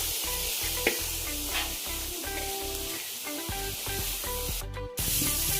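Onions or aromatics sautéing in a pan until golden brown for chicken curry, with a steady, close hiss and sizzle and occasional stirring scrapes, ending in a sharp spattering burst.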